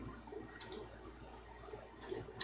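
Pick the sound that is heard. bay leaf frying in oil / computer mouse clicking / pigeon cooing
computer mouse clicking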